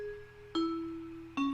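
Bell tones playing a counter melody in an FL Studio beat ring out as three clear, sustained struck notes, each sharp attack followed by a slowly decaying chime, close and alone.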